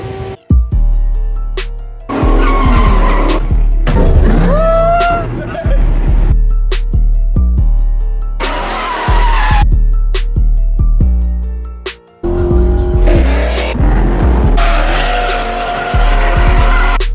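Dodge Charger Scat Pack with worn-out, metal-to-metal brakes skidding and squealing, loud tire screech and grinding bursts in repeated passes with engine noise, and voices talking between passes.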